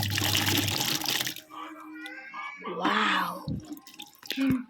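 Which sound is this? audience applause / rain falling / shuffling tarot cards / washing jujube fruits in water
washing jujube fruits in water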